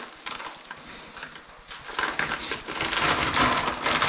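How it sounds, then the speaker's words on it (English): A pack of frozen prawns being torn and broken open in a kitchen: close crinkling, crackling plastic with scattered rustles that grow louder and busier toward the end, over a faint background sizzle. "bust open a pack of prawns"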